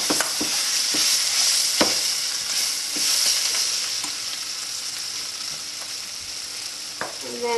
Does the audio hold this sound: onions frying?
yes